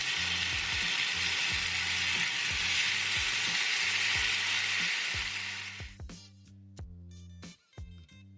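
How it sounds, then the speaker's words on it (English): Pork sears in a hot pan with a loud, steady broadband sizzle for about six seconds, then cuts off abruptly, leaving scattered clinks and knocks of the pan and utensils. "I'm going to go ahead and add the pork to the pan. I want to sear this on both sides."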